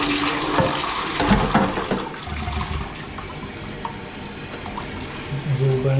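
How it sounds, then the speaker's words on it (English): A toilet flushes with a steady rush of running water, then the tank refills with gurgling and trickling, loud and close throughout. "I've been flushing them all about 5 times just to make sure"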